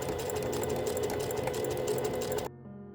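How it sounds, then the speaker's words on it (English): A sewing machine runs steadily, stitching the side seams of outer fashion fabric for an Edwardian-style winter outfit. A close, continuous mechanical whir lasts about two and a half seconds, then stops abruptly. "here's another angle of me sewing the sides of the fabric"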